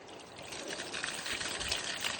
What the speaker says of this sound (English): that's just all the water up there running all the way back down here